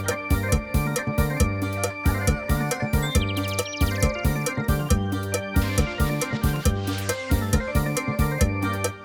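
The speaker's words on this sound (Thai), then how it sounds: "เสียงออกแกนจังหวะมอลำ" A Yamaha PSR-E473 keyboard plays its organ voice over a Thai molam accompaniment rhythm, with sustained chords and a busy, driving percussion pattern at a steady tempo, loud and without talking.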